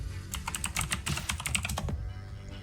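Rapid keystrokes on a computer keyboard while a URL is entered, a dense, close clatter of key presses lasting about two seconds before easing off.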